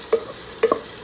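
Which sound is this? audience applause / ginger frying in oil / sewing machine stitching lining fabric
ginger frying in oil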